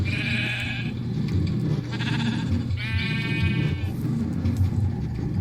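Repeated Minecraft sheep bleats, several drawn-out calls in a row, over a constant low hum of background noise.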